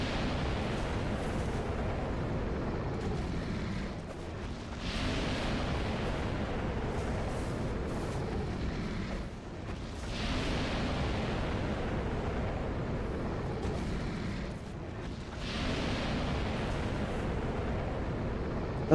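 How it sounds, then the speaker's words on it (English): Fire bomb explosions in a Dark Souls roguelike mod, several loud fiery blasts bursting every few seconds over a steady roaring background, with no voice present. "What I can do with this bow is use it for aiming my fire bombs."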